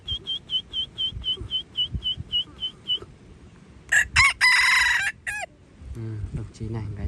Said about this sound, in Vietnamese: đồng chí này gáy rất hay